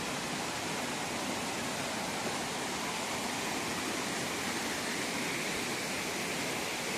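A waterfall in a mountain canyon ravine pours out a steady, dense roar of rushing water that holds unchanged throughout, with no voices over it.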